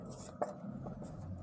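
A pen writes a math proof by hand, with faint scratchy strokes and a small tap against the page, close and quiet over a low background hum.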